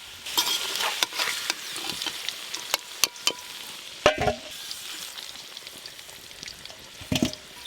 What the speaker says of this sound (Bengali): আলুটা খুব ভালো করে ভাজা হয়ে গেছে